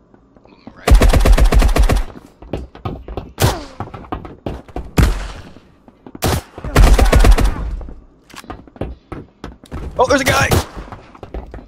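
Shotgun blasts in the video game Marauders: several loud, sharp bursts in quick clusters with short gaps between them, mixed with excited voices talking over the action.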